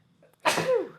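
A single sharp sneeze bursts out close to the microphone in a quiet studio room, a quick intake followed by a bright, breathy explosion that trails off within half a second.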